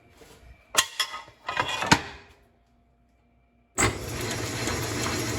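A metal lathe machines a plug for a stripped oil level check hole on a 6F35 transmission. A few clunks and rattles come first, then a brief silence, then a steady, loud, broadband whir of the running machine to the end.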